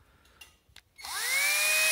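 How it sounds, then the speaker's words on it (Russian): Power drill spinning up a parking-sensor hole cutter against a car bumper on a Passat B3, a few faint taps and then a rising whine that settles into a steady loud drone. "В комплекте с Парктроником шла такая фреза."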